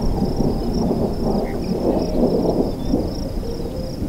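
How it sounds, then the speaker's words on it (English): Thunder rumbles in a low, continuous roll across the open plains during a Colorado storm, loud and steady throughout, with a thin high insect-like whine layered on top. "The skies blackened, and the familiar rumble of thunder echoed over the plains"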